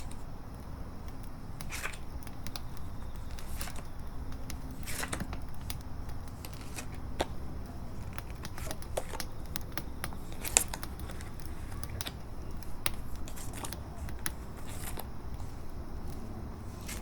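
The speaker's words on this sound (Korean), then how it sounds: "그럼 카드 뽑아 볼게요" Tarot cards being shuffled and drawn make a steady, soft papery rustle with scattered light snaps and flicks, close and quiet, with no one talking.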